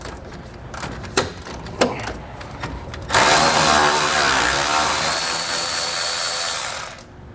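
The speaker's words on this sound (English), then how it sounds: "So you take your 10mm socket, and I'm using this extension." Breaking loose a 10mm bolt with a socket and extension while fitting helper springs on a 2011 GMC: a few sharp metallic clicks, then a loud continuous tool whir for about four seconds that stops abruptly.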